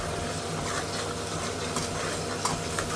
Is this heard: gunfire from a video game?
no